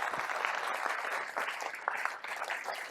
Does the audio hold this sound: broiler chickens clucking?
no